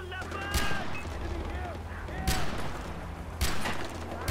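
Bursts of rapid gunfire from the Far Cry 4 video game pop in quick clusters, with a louder shot roughly every second or two over a busy game soundtrack, while a person talks.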